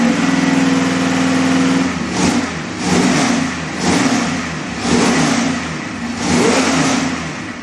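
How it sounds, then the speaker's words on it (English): An Edelbrock crate engine idles steadily, then revs up repeatedly in four or five rising surges that fall back between them, loud and close, with no talking. "Can you rev it up a little for us?"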